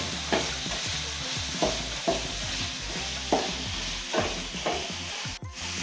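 Chicken-dish ingredients fry and soften in a pan while a spoon stirs them, giving regular scraping strokes about once a second over a steady sizzle, close and without talk.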